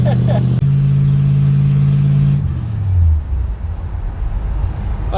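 A 1964 Ford Galaxie 500 engine hums steadily while driving, then drops in pitch as it eases off, heard loud and close inside the car with people talking over it.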